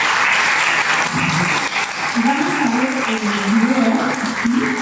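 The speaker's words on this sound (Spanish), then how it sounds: "Un aplauso para ella." An audience applauds a woman receiving a journalism prize at a municipal innovation workshop for women mayors, a steady sustained clapping throughout, with a voice talking over it partway through.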